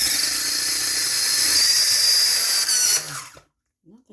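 A weak blender struggles through black sesame milk with banana, a steady high whining drone close to the mic that runs for about three seconds, then cuts off abruptly into near silence.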